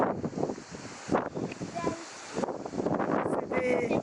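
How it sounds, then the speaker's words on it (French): Strong wind in Hyères, southern France, buffets the microphone in loud, rumbling gusts while someone talks over it. "Il y a vraiment beaucoup de vent quoi."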